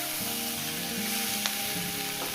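Snake gourd and egg frying in a pan, a strong continuous sizzle with a low hum underneath and a couple of brief clicks, close up and without talk.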